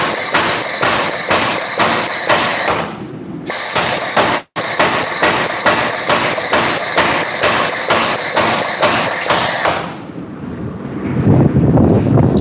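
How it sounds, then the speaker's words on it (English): A knife blade is hammered at the forge, rapid regular hammer blows ringing out close and loud in a steady rhythm, with a brief pause midway and wind buffeting the microphone toward the end. "I think I'm gonna continue to hammer that blade and get it nice and smooth"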